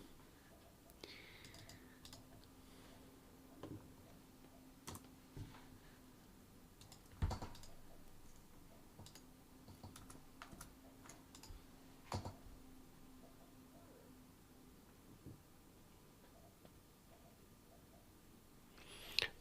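Typing on a wireless Microsoft computer keyboard, with irregular bursts of soft key clicks and a few sharper taps, close and quiet, heard alone over a faint background hum.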